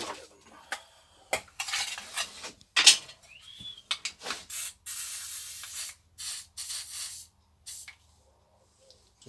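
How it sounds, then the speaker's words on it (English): Short bursts of spray as 3-in-1 oil is squirted into a metal tin, several hissing puffs separated by brief pauses along with light metallic clinks and handling noises, close by and fairly quiet. "I'm just spraying a bit of 3-in-1 oil into a tin"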